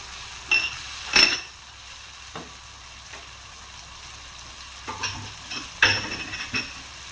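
Spices such as dried coriander, cumin and salt are stirred in a frying pan for an egg curry, with a few sharp scraping and clinking bursts over a low, steady sizzle and no talking.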